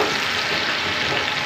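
Onions and garlic paste fry in a pot, a loud, steady close-up sizzle with dense crackling and no pauses, alone without talk.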